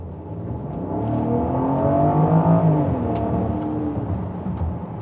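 A Range Rover Velar with a 3-liter inline-6 mild hybrid engine accelerates hard, its smooth rising engine note swelling loud and close before easing off, with no talking.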